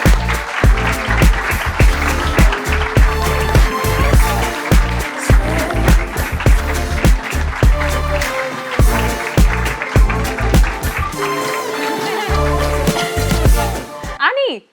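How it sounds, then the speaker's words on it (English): A studio audience applauds loudly and continuously over upbeat music with a heavy rhythmic beat, the clapping and music running together until an abrupt cut. "please give a warm round of applause to Anie Hussain"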